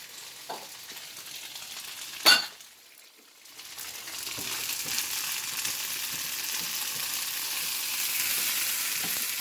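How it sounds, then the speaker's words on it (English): Green beans fry in a pan alongside tofu and onions for a soup. A clink and a brief hush come first, then a steady, even sizzle builds and holds close by. "Then add the green beans. I use 8 ounces of green beans."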